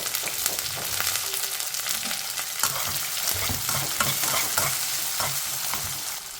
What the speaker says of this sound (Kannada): ಈರುಳ್ಳಿ, ಬೆಳ್ಳುಳ್ಳಿ, ಹಸಿಮೆಣಸಿನ್ಕಾಯಿ, ಕರಿಬೇವಿನ ಸೊಪ್ಪು ಇಷ್ಟು ಹಾಕ್ಕೊಂಡು ಫ್ರೈ ಮಾಡ್ಕೊಳ್ಳೋಣ